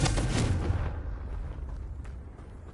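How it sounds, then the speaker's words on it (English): A heavy fiery blast from the Confringo spell in Hogwarts Legacy on PS5 bursts loud at the start, then rumbles and fades into a lingering low roar over the next couple of seconds. "Confringo."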